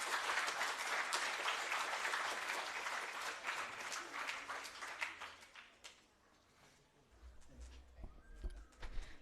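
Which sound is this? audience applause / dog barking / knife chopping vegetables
audience applause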